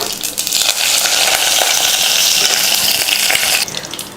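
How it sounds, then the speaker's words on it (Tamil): Mustard seeds, urad dal and curry leaves hit hot oil with a loud, hissing sizzle that holds steady for a few seconds, then eases slightly at the end. "எண்ணெய் காஞ்சதுமே கடுகு உளுந்து, கொஞ்சம் கருவேப்பிலை"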